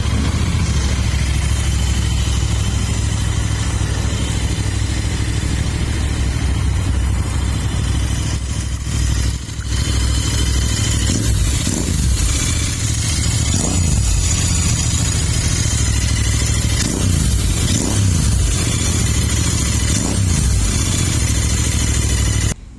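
A white 2019 Royal Enfield Continental GT650 motorcycle with about 19,000 km runs steadily close by, a loud continuous twin-cylinder drone with small rises in revs partway through and no voices.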